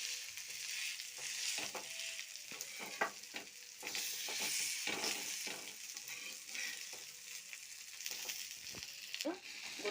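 Potato and Malabar leaf vada fry in a pan over low to medium flame, a steady bright sizzle with soft stirring scrapes and occasional light taps throughout.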